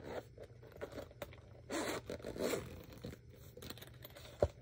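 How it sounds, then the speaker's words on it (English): A double zipper on a bag is pulled open or closed in a few short rasping runs, close and fairly quiet, ending in a sharp click, with no talking. "It does have double zippers,"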